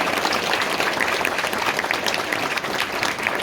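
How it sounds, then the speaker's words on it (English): Audience applause fills the hall at a convention closing ceremony, a dense, steady wash of many hands clapping at close range throughout, with no speech over it. "So big round of applause to everyone who has contributed to that."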